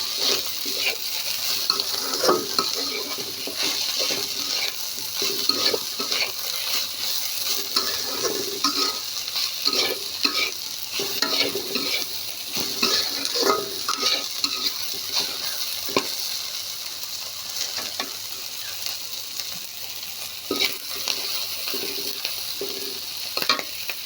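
Bitter gourd bhaji stir-frying in a pan, steady sizzling with repeated scraping and stirring of a utensil against the pan, close and continuous.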